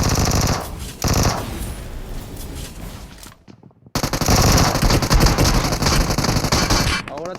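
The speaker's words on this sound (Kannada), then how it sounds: "ಅವನ ಹತ್ರ ಗನ್ ಇಟ್ಕೊಂಡು ಕೂಡ ಹೊಡೆದಿಲ್ಲ ಉದಯ್ ನನ್ನ." Loud automatic gunfire in the mobile shooter BGMI (PUBG Mobile), long dense bursts that break off into a moment of near silence before another heavy volley resumes.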